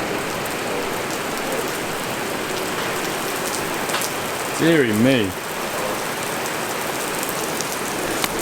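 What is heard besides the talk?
rain falling outside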